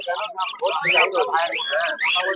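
At a bird market in Uluberia, caged finches and cockatiels chirp and tweet in quick, bright calls. Someone talks steadily over them.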